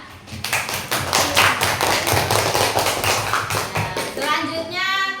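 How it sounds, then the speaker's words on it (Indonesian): Students in a classroom break into applause, a dense burst of many hands clapping for several seconds at close range, with a voice chiming in near the end. "Ya, kasih aplaus nak."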